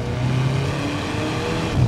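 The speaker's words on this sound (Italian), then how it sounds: "Terza marcia, esci in coppia! Che motore, 1750!" An Alfa Romeo 4C with a 1750 engine accelerates in third gear, pulling on torque with a steady, loud, close engine drone that swells slightly toward the end.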